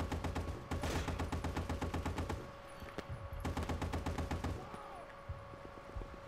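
Rapid gunfire from a World War II battle in the video game Battlefield 1943, dense bursts of automatic weapons cracking repeatedly and loudly for several seconds, then thinning to scattered single shots.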